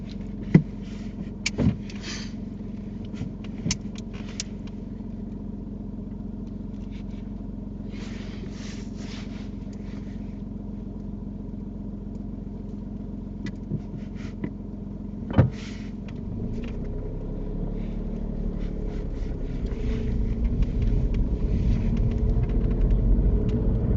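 Steady low rumble of a car being driven on a mock driving test, engine drone growing louder toward the end with a couple of brief clicks and knocks, no talking.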